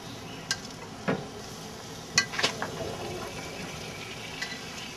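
Artichokes sizzle on a hot grill over open flame, a steady crackling hiss with scattered sharp pops and spits, close by and without talk.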